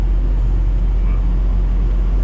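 A truck rolling along a road in the USA, heard from inside the cab as a steady, loud low rumble of engine and tyre noise with no breaks.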